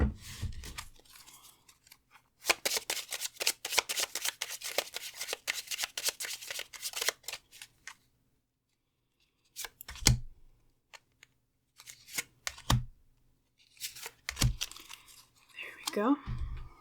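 Lenormand cards are shuffled in rapid crackling riffles, a dense run of close papery clicks followed by a few separate slaps and snaps, with a brief voice near the end.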